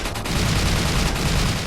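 A powerful gun in Resident Evil 4 fires rapidly in a dense, continuous, loud burst.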